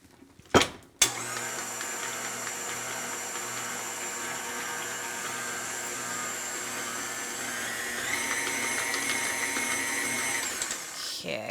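An electric mixer whirs steadily through vegan, gluten-free coconut cake batter, a sustained close motor drone of about ten seconds that shifts pitch slightly partway through, preceded by a couple of sharp knocks.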